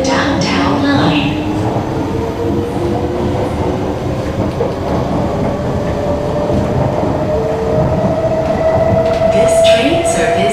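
A Singapore MRT train on the ride from Bedok to Pasir Ris rumbles steadily inside the carriage, with a rising electric motor whine and rail noise throughout.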